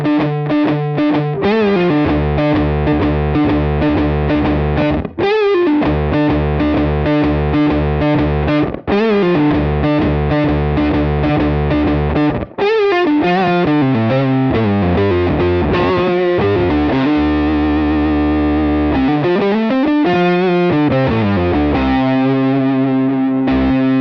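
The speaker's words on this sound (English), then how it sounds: "every time I click it, the low octave is going to show up." Distorted electric guitar runs through a Beetronics Zzombee Filtremulator pedal in amplitude mode, with a low octave switched in under riffs that stop and restart several times, loud and close.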